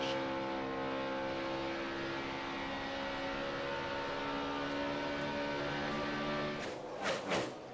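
NASCAR Sprint Cup stock cars race at the 2010 Kobalt Tools 500, a steady loud engine drone holding for several seconds before a brief surge as a pack roars by close, with no talk.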